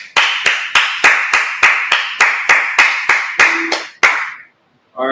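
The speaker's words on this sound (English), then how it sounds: "All right, let's clap it up." A congregation claps together in unison, about a dozen loud, sharp claps on an even, steady beat. A short pause follows, then a voice starts to speak.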